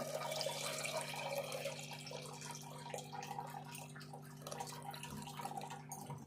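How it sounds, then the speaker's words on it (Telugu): Tamarind water pours steadily into soft cooked dal for an old-style sambar, a continuous liquid trickle and splash close by over a faint background hum, with no talking. "ఇప్పుడు ఇందులో సరిపోను సారు వేసుకుందాము"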